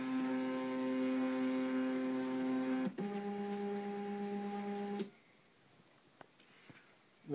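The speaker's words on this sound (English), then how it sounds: "keep it held down until the printer is switched on and the paper is starting to feed." A TSC TTP 244 label printer recalibrating feeds paper with a steady tonal motor whine, briefly interrupted partway, then stops, leaving faint clicks and quiet.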